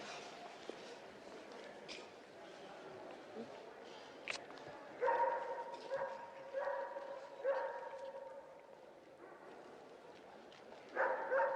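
Puppies bark and yip in short bursts, several sharp yaps in quick clusters in the second half, moderately close and under a quiet background, while people talk.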